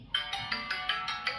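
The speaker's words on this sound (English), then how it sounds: "So guys, which ringtone do you like? Click here and listen," A Redmi phone ringtone preview plays alone: a bright electronic tone repeating in quick, evenly spaced bursts, about six pulses at a steady clip.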